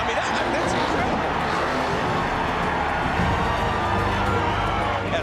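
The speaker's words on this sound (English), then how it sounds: "Hey, listen to the crowd." A dense, steady roar of a large race crowd cheering at a NASCAR finish, with broad babble and shouting and faint engine noise underneath, loud and sustained throughout.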